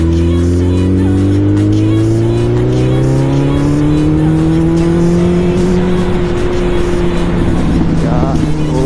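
A Suzuki Hayabusa motorcycle engine roars loud and close under hard acceleration at high speed, its pitch climbing steadily through a gear with strong continuous wind rush throughout.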